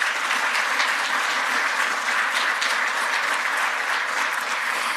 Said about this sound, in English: we're going to give a round of applause to Daisy, to Daryl, to Nuxia, and to Jaden